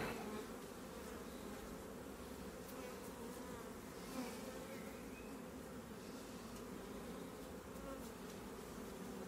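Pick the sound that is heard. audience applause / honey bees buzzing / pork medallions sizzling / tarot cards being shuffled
honey bees buzzing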